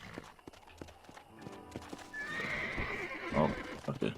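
A horse in the Red Dead Redemption video game near Fort Mercer: a few hoof clops, then a loud, close whinny with a snort. Background game ambience runs underneath.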